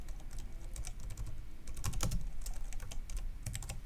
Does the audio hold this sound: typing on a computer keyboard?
yes